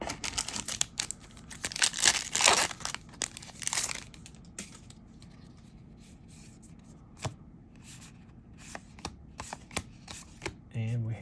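Magic: The Gathering cards from a Dominaria Remastered draft box being handled and shuffled, a busy papery rustle and riffle up close for the first few seconds, then lighter scattered flicks and taps with soft talk in between.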